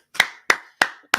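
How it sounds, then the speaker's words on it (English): Four sharp hand claps in a slow, even rhythm, crisp and close in an otherwise quiet space, each with a short decaying ring. "clap it up"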